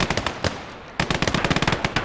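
Rapid repeated gunfire cracks in a woodland battle against a T-34 tank in the war game Operation Mars, a quick rhythmic burst, a brief gap, then another steady string of close, sharp shots.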